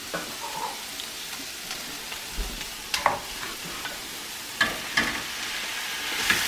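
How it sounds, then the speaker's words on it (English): 80-20 ground chuck for shepherd's pie frying in a pan, a continuous hiss broken by sharp crackles and stirring scrapes, close and fairly loud, without speech. "we're going to add our ground beef right in there"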